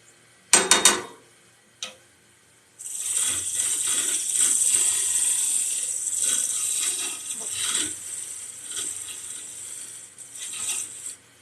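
A wood lathe turns a lidded box held without a chuck, with a few sharp knocks at the start and then a steady hissing, scraping cut that swells and fades as the tool works the wood, close and fairly loud.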